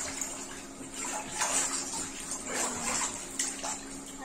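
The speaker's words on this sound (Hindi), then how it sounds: "दर्शिका दूध में नहाती है" A child sits in a tub of milk mixed with turmeric, gram flour and cream, sloshing and splashing continuously at close range, with brief bursts of louder splashes and faint voices in the background.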